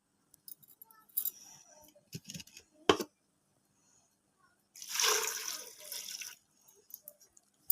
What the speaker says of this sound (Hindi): तो इसके साथ ही हम इसमें ऐड करेंगे पानी।